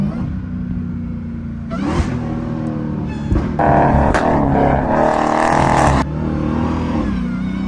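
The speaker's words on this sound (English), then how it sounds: "I feel like it's harder to make it backfire on Hellcats for real" A Dodge Hellcat revs hard with a loud, close, roaring exhaust, and sharp pops and cracks of backfire rise in the middle stretch. No voices are heard.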